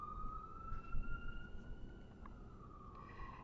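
A distant emergency siren wails in a steady, slowly falling tone over low background rumble, faint and continuous.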